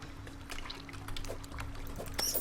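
Flowing water in the Terraria video game, a soft pouring trickle with light splashy droplets, faint and steady under quiet game ambience, no voices.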